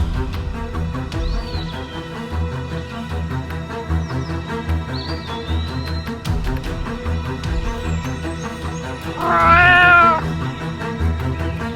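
Young farm kittens mewing repeatedly over a busy background, with a louder drawn-out meow rising and falling near the end, close and clear.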